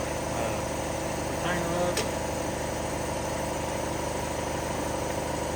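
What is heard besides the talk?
air compressor running in a garage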